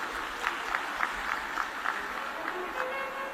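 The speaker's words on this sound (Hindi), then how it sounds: "जोरदार ताली बजाएं।" A large crowd claps loudly in unison at a live Shiv Mahapuran religious discourse, a steady rhythmic beat of claps over a dense hall murmur.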